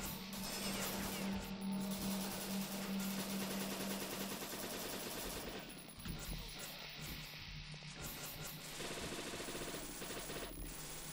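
Gunfire rattles in The Citadel, the first-person shooter game, as fairly loud rapid bursts of shots and crashing impacts with a brief lull midway, while a person talks over the action.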